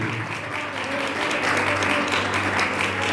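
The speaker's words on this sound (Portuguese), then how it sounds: "Vamos dar uma salva de palmas para o Senhor Jesus de uma vez?" Church congregation applauding in a worship service, steady close clapping with voices mixed in underneath, sustained throughout.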